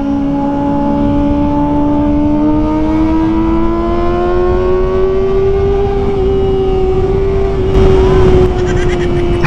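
A Kawasaki ZX25R inline-four sportbike engine, very loud and close, holds a high, rising howl as the revs climb steadily through a gear, with a brief rough burst near the end.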